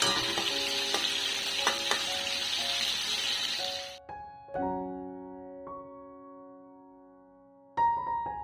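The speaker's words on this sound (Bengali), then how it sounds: "তো তাই করছে, আগে ফ্রাই করে নিচ্ছে।" Shrimp fry in a pan with salt and turmeric, a loud steady sizzle broken by clatters of stirring, then fading to quieter crackles after the heat drops, with a sharp burst of sizzle returning near the end.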